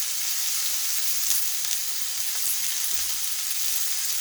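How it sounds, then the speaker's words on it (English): Red onions sweat in olive oil in a skillet, giving a steady, close hiss of frying that stays even throughout with no talking. "the first thing I want to do is start to sweat down some red onions"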